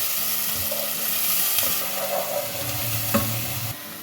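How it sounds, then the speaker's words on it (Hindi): A chopped medium onion fries in hot oil in a pan, a steady close sizzle with occasional stirring scrapes and no voices. "इस प्याज को फ्राई कर लें।"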